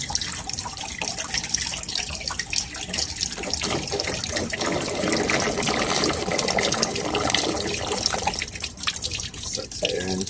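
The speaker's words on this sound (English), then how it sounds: "Sucks air into there. Starts to break the siphon." Water gurgles and churns as a bell siphon draws air and breaks, a steady turbulent rush of draining water with sucking, bubbling noise throughout.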